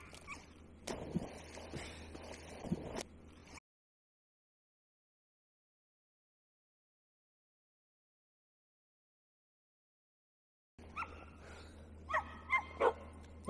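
A dog barks and yips excitedly in short bursts on a woodland walk, eager to fetch a thrown stick; the barking is close and fairly loud, stopping for a long silent gap before more yapping and rustling return.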